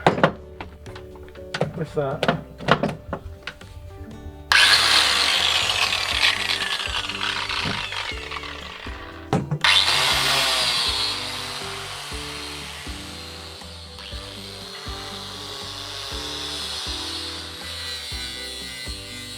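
A power polisher makes a coarse cut on a sailboat hull, running as a steady broadband whir with shifts in pitch and load, preceded by a few knocks and handling clatter.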